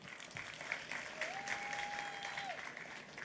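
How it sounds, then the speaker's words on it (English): Applause from the audience at a national sports awards ceremony, a soft, fairly distant patter of clapping that holds steady across the moment, while a faint tonal sound glides briefly through the middle. "A round of applause, please."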